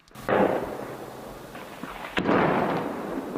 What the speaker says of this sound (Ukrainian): Незвично красиве тутешнє небо розрізають черги трасувальних куль.